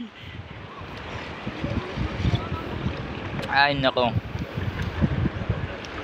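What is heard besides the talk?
strong wind and waves around a boat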